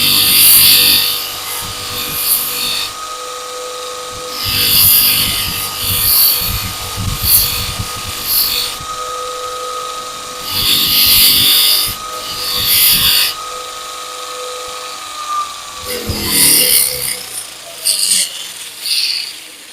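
Abbott & Ashby 200mm bench grinder used for sanding, giving repeated bursts of rasping, abrasive grinding against a steady motor whine, loud and close with short pauses between passes.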